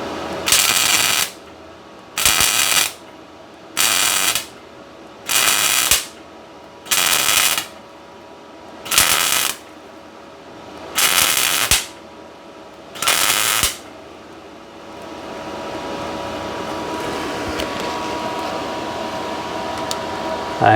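Bursts of welding on the inner frame rail of a 1964-72 GM A-body car: eight loud, crackling buzzes of about a second each with short pauses, followed by a steady fan-like hum.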